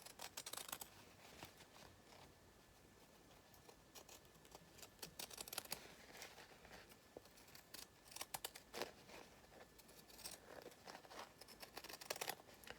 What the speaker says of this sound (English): now we're going to go around with pinking shears, just to stop it fraying